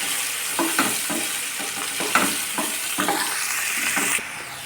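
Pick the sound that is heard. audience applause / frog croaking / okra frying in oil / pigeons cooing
okra frying in oil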